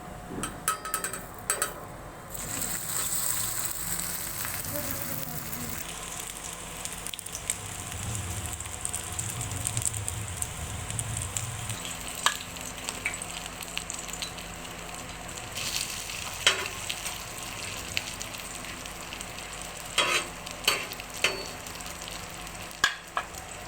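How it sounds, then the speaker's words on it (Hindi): Beef chapli kebabs fry in hot ghee over low heat with a continuous close sizzle and crackle, with occasional sharp pops and clinks throughout. "अब हम इसे घी में शामिल करें। घी हमारा गर्म हो चुका है।"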